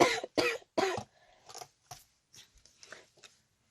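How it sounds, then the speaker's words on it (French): Three sharp, close coughs come in quick succession, followed by fainter throat noises and small scattered sounds in a quiet room. "Vivement le printemps que j'arrête de tousser."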